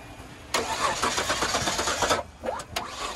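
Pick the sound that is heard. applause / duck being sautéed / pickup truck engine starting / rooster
pickup truck engine starting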